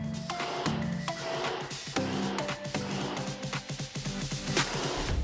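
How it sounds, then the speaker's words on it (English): Low-pressure spray gun sealing walls in an asbestos-affected room, giving a hissing spray in repeated bursts with clicks and short pauses between passes, close and fairly loud. "I'm using a low-pressure spray to seal the walls."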